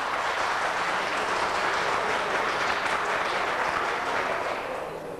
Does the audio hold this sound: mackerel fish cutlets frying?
no